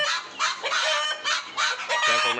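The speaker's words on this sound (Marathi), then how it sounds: "आपल्या बाकीच्या आधीच्या बॅचच्या ज्या कोंबड्या मित्रांनो त्या तिथे फिरत आहे" Several free-range country chickens on a poultry farm cluck and squawk close by in quick, overlapping calls.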